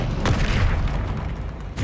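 Bombarda explosion spell in Hogwarts Legacy bursting as a dense, rumbling boom with a sharp crack at the start and another at the end, loud and close with no talk.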